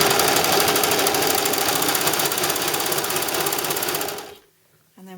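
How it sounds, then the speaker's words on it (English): A Brother 1034D serger stitches fast and close, its steady mechanical whirring lasting about four seconds before stopping abruptly. Brief quiet follows, then a faint voice. "close up my cover and let's sew"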